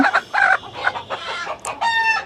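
A desi (native Bengali) hen clucks close by in a series of loud, short, choppy calls, ending in a longer drawn-out squawk.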